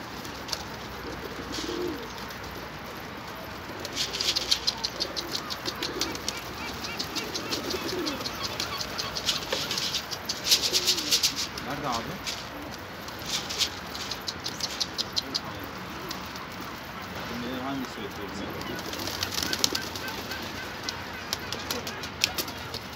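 Pigeons, including a runaway bird, coo softly amid a noisy outdoor rooftop setting, with several brief bursts of wing flapping rising above the steady background over the span.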